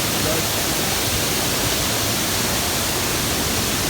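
A North Georgia waterfall roars as a steady, dense rush of broadband water noise, close and loud, unbroken from start to finish with no voices.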